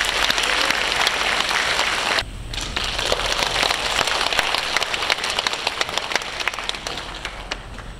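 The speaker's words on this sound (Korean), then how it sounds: "큰 박수 부탁드리겠습니다." Loud, dense applause from a large audience at a Korean Liberation Day 80th anniversary celebration, briefly dipping then continuing steadily, welcoming the president of the Korean American Federation of Los Angeles.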